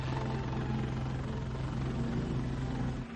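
Military helicopters shuttle from the US embassy to an aircraft carrier offshore during the Vietnam War evacuation, their rotors and engines making a loud, continuous, steady drone with no voices.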